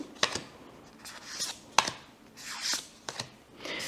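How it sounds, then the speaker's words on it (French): Crisp, papery snaps and slides of matte-varnished tarot cards being handled and flicked, a series of sharp clicks at irregular intervals, close and quiet. "On a des cartes, comme vous l'entendez, j'adore ce son, vernis mat."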